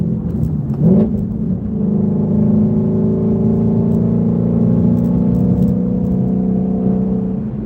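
A Shelby GT350 engine pulls hard from inside the cabin, a loud, steady low drone with a rising whine after a brief initial blip, sustained and close throughout.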